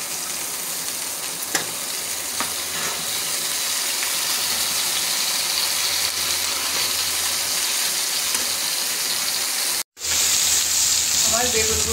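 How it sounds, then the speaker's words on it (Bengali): Eggplant slices coated in salt and turmeric fry steadily in hot oil, a dense continuous sizzle that holds for most of the stretch, cuts out briefly, then resumes just as loud. "আমি বেগুনগুলো কেটে পরিষ্কার করে লবণ আর হলুদ দিয়ে মাখায় রাখছি, এখন ভেজে দেব।"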